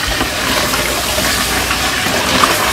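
A bucket of water being poured into a household biogas plant, a loud, steady gushing splash that runs unbroken for a few seconds, close by with no speech.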